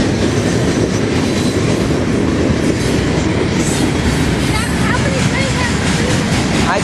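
A CSX maintenance freight train rumbles past close by at Folkston, Georgia, wheels clattering rhythmically over the rails with occasional squeals, loud and continuous throughout.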